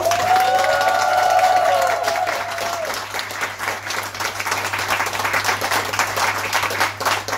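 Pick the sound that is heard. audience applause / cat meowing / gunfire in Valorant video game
audience applause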